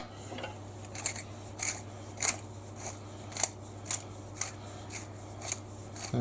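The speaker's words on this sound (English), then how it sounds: "that's quite a nice grind, but I can make it finer if I want to with each click" A Pro-grind 12 inch pepper mill grinding a few peppercorns gives a series of about ten short, crisp crunching rasps at a steady rhythm, close and fairly quiet, over a low steady hum.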